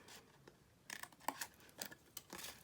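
Scissors snipping through card down to a score line while making a card-in-a-box, a series of short, crisp cuts close by with brief pauses between them.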